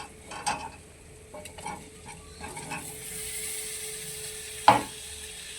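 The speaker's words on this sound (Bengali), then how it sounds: "এখন ভাতে রাখা কুচুগুলোকে আমি দিয়ে দিচ্ছি কড়াইতে" Boiled taro chunks go into a wok of spice paste and fry, with soft sizzling, scattered stirring scrapes and one sharp knock of the utensil against the pan near the end.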